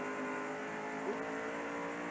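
Mark Martin's NASCAR race car roars from inside the car at the 1990 GM Goodwrench 500, a constant, loud, high-revving engine whine with no break.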